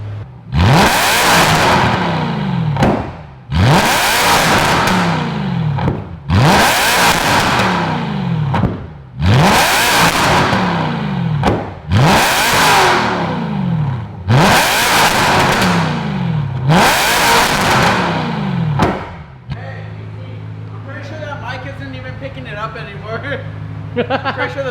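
BMW E90 M3 V8 with a full titanium exhaust, revved hard seven times in a row, each loud blip rising and falling back, then settling into a lower, quieter idle.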